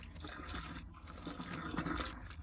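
Water runs steadily down a sink drain after it is cleared with expired cola, a continuous close gurgling rush with no voices.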